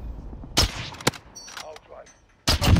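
Gunfire in the video game Call of Duty MW: a few sharp, loud shot bursts with gaps between them, while players talk excitedly over the game audio.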